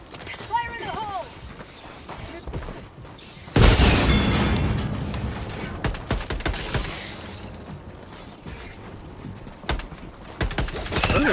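A thrown grenade goes off in Helldivers 2 with a sudden loud boom at about three and a half seconds, followed by rumbling debris and scattered battle noise, with voices heard around it.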